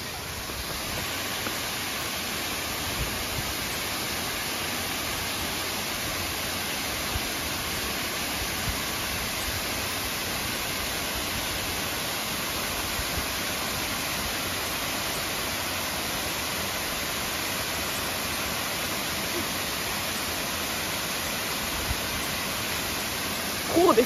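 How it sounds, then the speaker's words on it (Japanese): A steady waterfall pours out a constant broadband rush of falling water, loud and unchanging for the whole stretch, with a brief knock at the very end. "まずは滝で洗礼を受けないといけないので"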